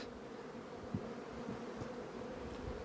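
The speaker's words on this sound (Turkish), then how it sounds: "Arı bu şekilde çalışıyor." A low, steady drone of buzzing honey bees hums throughout, faint and continuous, with no voices.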